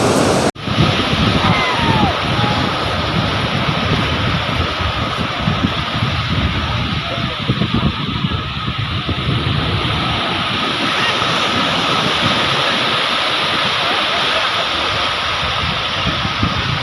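Sea waves break and wash continuously along Puri beach under heavy gusts of wind buffeting the microphone, forming a dense, loud roar with no clear pauses.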